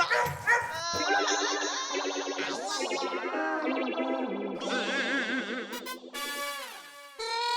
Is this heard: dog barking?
yes